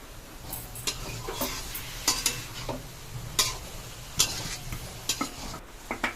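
Fried potatoes and boiled cabbage are stir-fried in spice paste, a spatula scraping and clacking against the pan in irregular sharp strokes over a constant low sizzle, with no voices.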